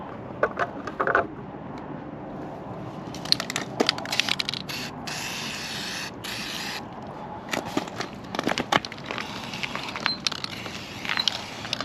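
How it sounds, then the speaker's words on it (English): Aerosol chain lube from a DuPont can sprayed onto a mini bike chain, heard as close, uneven hissing bursts with rubbing and light mechanical clicks in between, no talking. "Now we're going to take some of this DuPont chain saver and get it sprayed on the chain here."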